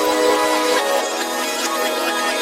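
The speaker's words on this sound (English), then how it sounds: "I grabbed the starter that we made before and I reversed it and I pitched it up" A starter loop, reversed and pitched up, plays loud and bright with shimmering high tonal layers and swelling reversed textures, steady throughout and without voices.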